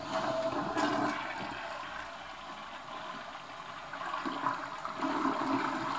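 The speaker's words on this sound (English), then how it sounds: "experience tells me that was a 3 liter flush." An American Standard toilet in a hotel room flushes with a loud, sustained rush of water that swells and eases over several seconds, close by and with no talk over it.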